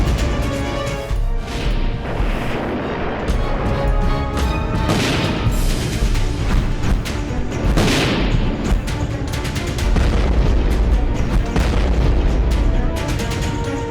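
Military strike footage carries a run of heavy bomb explosions, loud booming blasts and crashing bursts following one another densely with no quiet gaps, the impacts rising again toward the end.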